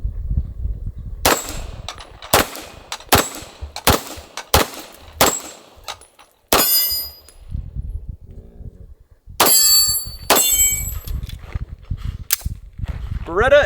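Beretta M9A3 pistol fired semi-auto at a tree outdoors: about ten sharp, loud cracks at uneven intervals, with a pause in the middle and a brief ringing tail after several shots.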